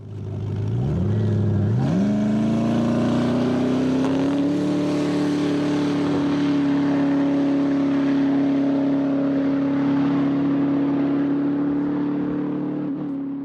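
A Koenigsegg Regera's hybrid 5-liter twin-turbo V8 climbs in pitch, then settles into a steady, loud high-revving drone that holds for several seconds, with no voices.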